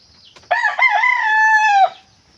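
A single rooster crows nearby, one loud drawn-out call lasting over a second against quiet surroundings.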